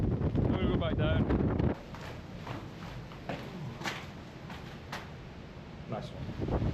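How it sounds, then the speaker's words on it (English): Steady wind buffeting the microphone with a low roar and occasional gusts on the Northumbrian coast, a louder rush at the start then a lighter continuous blow. "If you can't tell, it's quite windy up here."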